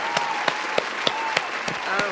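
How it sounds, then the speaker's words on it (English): An audience applauds at a spotlight interview event, with sharp individual claps landing at a regular pace over a steady backdrop while a voice talks. "Ladies and gentlemen, round of applause for Kenneisha Thompson."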